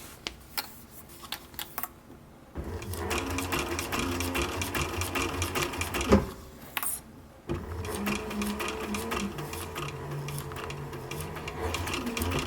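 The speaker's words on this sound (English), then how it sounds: "and then we'll sew all four together." A sewing machine stitches patrol cap fabric pieces, its rapid mechanical hum running steadily for several seconds with a short pause and restart, close and fairly quiet, with no talking.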